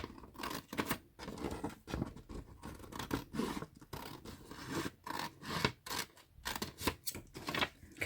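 A sheet of creased paper cut in half by hand, with repeated short crisp snips and rasping slides in an irregular rhythm, close and quiet.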